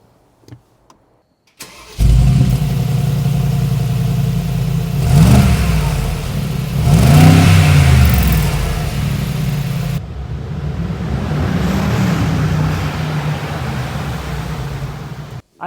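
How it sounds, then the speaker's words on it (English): A Mercedes G63 AMG with side-exit exhausts cranks and fires up loudly, then blips through two strong revs before settling into a deep, rumbling idle, close and with no talk over it. "start the engine"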